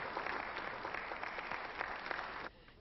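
The Israeli delegation at a 1991 peace conference gives brief, muffled applause, a short patter of clapping heard at a distance that cuts off abruptly.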